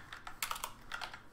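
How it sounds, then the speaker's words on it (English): Quiet computer keyboard typing, a handful of quick clicking keystrokes in two short bursts, close and soft. "Man, my typing is really bad right now."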